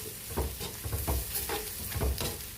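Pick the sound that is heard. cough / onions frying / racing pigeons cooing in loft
onions frying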